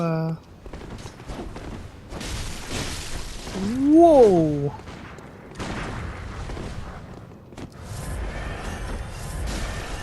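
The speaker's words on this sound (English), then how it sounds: "Oh, I heard a gunshot." Gunfire in the Bloodborne video game comes as booming, broadband shots and blasts mixed with other game noise, and a man exclaims briefly partway through.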